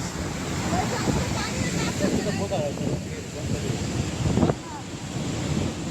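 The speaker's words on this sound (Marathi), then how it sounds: "धबधबा पक्का जोरात पडतोय" A waterfall at Someshwar pours down hard in a constant close roar, with wind buffeting the microphone and voices faintly mixed in.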